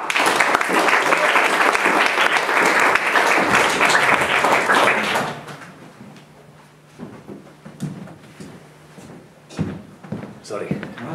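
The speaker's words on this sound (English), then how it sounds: "a round of applause for Robert Prosser" Poetry festival audience applause fills the first five seconds, loud and dense, then cuts away to a quieter room with knocks and movement noises as people settle on stage.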